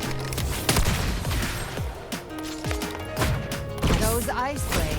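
First-person gunfire in the video game Wuthering Waves, with a burst of sharp shots and impacts mixed with game effects and a voice talking over it.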